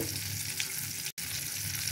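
Chicken pieces browning in hot oil make a dense, continuous close sizzle, with one very brief break partway through.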